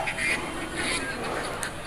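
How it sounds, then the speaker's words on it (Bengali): Domestic ducks at a pet bird market quack in short, fairly loud, repeated bursts, with a faint murmur of voices in the background. "হাঁসও পাবেন, বিভিন্ন ধরনের হাঁস, পাতি হাঁস, দেশি হাঁস।"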